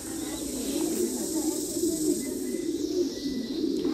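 Pigeons coo softly and continuously in a pigeon farm shed, a low, throaty murmur running under a steady background hum. A voice speaks faintly now and then.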